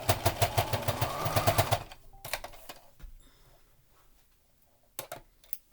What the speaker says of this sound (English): I'm going to stitch forward, back stitch, and then stitch forward again